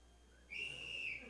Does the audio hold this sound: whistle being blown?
yes